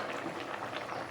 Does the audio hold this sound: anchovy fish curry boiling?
yes